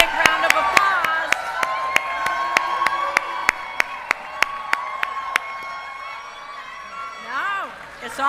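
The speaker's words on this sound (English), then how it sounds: "Give him a big round of applause." A crowd at a campaign event for VP Kamala Harris claps in a steady rhythmic beat while voices cheer and chant loudly, with a final swell of shouting near the end.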